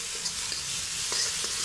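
Ground masala paste for a peanut amti sautés in hot oil with a soft, even sizzle. A few faint stirring taps break through, with no talking.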